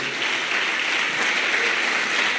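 A church congregation applauds together at a founding general assembly of O Brasil para Cristo church, steady dense clapping filling the room without a break, fairly close and even in loudness.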